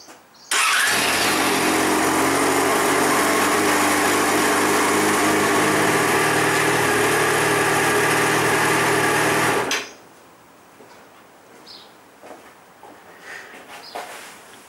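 A Yamaha XJ6 Diversion F motorcycle engine fires up and settles into a steady, loud idle for about nine seconds, then cuts off, leaving quiet garage ambience with a few faint knocks.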